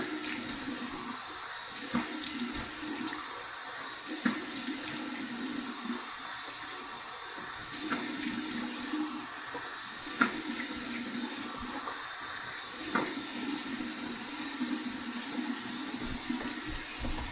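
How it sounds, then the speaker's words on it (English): Warm water runs steadily from a bathroom tap for a post-shave rinse, with faint splashes and occasional clicks and knocks against the sink at close range. "All right, here's my warm water rinse."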